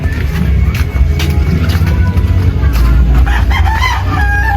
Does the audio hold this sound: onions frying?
no